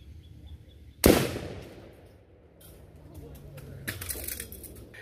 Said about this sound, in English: I was able to shoot both cans